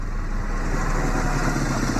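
A motorbike putters at a distance with a steady, low, rumbling engine drone that stays even throughout as a radio-drama sound effect; no voices.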